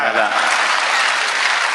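Dense applause from a live audience at a political rally speech, steady and loud throughout, with some voices mixed in.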